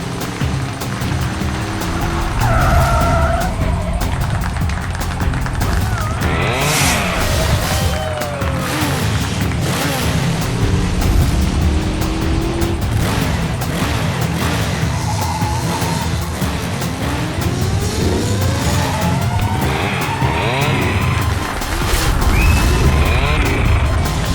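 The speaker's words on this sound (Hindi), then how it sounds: "हमारे सुपर बाइकर्स अपने स्टंट्स के साथ ऑलरेडी चालू हो चुके हैं और ये इधर उन्होंने मारी एक बड़ी विल्ली" Superbikes tear through stunts and wheelies, with roaring engines, screeching tires and bursts of impact noise that stay loud and busy throughout.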